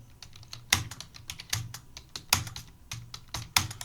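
Keystrokes on a computer keyboard entering a bank name in accounting software, a steady run of light clicks broken by a few sharper, louder key presses at irregular intervals, close and without speech.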